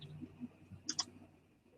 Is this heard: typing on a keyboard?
yes